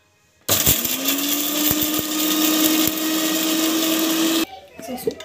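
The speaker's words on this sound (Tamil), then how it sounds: "பூண்டு ஆட் பண்ணிவிட்டு இப்போ வந்து பார்த்திங்கன்னா மிக்சியில் போட்டு அரைச்சிடலாம்." A kitchen mixer grinder runs loud and steady, grinding dal, chili, tomato and garlic, starting abruptly and cutting off near the end with a high motor whine over harsh churning.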